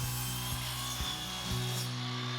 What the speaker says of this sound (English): I flipped out the wings on my miter saw stand, set up a stop block, and started cutting my pieces to length.